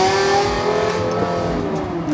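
Straight-piped Lexus LFA revving hard while driving, a loud, raspy engine note with steady harmonic drone and shifting pitch through the full stretch, close and continuous with no talk.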